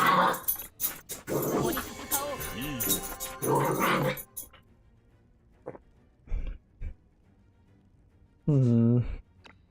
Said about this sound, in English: Man, my dogs are like flipping out over here. They're just playing